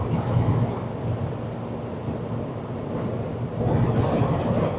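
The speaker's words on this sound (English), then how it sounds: "looks like it's definitely a dust storm" Wind from a dust storm roars steadily around a 2016 Jeep JKU on the road, a continuous low buffeting rush that swells louder near the end, with no talking.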